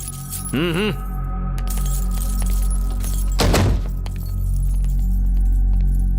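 A bunch of keys jangles in a police station as it is being locked: a short clinking rattle near the start, then a brief sharp burst a few seconds later, set against a low background hum.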